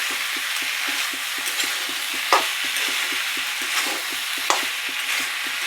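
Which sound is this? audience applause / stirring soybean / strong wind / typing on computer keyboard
stirring soybean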